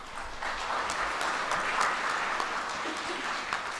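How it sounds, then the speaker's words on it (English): A convocation audience at the Indian Institute of Technology Ropar breaks into applause, a dense wash of many hands clapping at an even level, with a few sharper claps standing out. "We owe them an applause for that."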